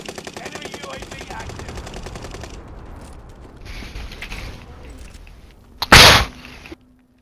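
Rapid bursts of PPSh submachine gun fire in the Call of Duty: Modern Warfare video game, a stuttering rattle of automatic shots with mechanical clatter and a sharp loud blast near the end.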